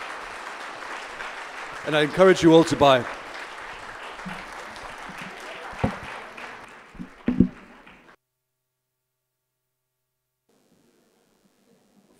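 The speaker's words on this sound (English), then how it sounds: "could we please have a round of applause for Lindsey?" Audience applause for author Lindsey Hilsum at the Jaipur Literature Festival fills a session hall for about eight seconds, swelling and then fading to silence, while someone speaks over the clapping.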